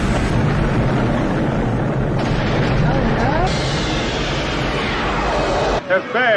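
Explosion scene from the film Ghostbusters, a loud sustained roaring blast with rumbling debris that fills several seconds before cutting off abruptly, with people talking over it.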